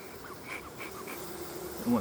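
Honeybees hum inside an open hive during an Apiguard treatment, a low, steady buzz heard close by with a few brief swells.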